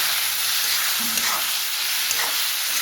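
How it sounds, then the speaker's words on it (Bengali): Fish curry spices with turmeric, chili and cumin sauté in hot oil, giving a steady close sizzle and hiss with a few soft stirring scrapes, with no voices. "এই যে হলদি, মরিচ, জিরা দিয়ে দিয়েছি। তারপরে লবণ দেবো, দিয়ে ভালো করে কষিয়ে"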